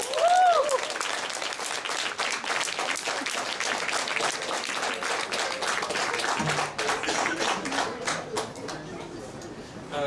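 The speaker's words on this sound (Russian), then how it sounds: "аплодисменты" A concert crowd in the Pobeda cinema-café in Novosibirsk applauds a band. The clapping is full and steady, then grows sparser toward the end, with some faint chatter mixed in.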